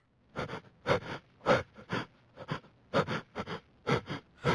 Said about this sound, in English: is it me that's breathing like that? Or is it the monster that's breathing like that?